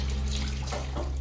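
A tap in a home kitchen runs for hand washing, a steady close rush of water flowing without pause for a moment.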